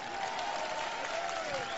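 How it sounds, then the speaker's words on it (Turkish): Applause from a crowd at an outdoor Turkish presidential campaign rally in Manisa, a dense steady roar of many hands clapping with a faint tonal whine running through it, loud and continuous. "Allah bir köylüme bir alkış alayım ben."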